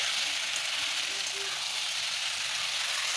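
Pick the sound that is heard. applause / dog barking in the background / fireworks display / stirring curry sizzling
stirring curry sizzling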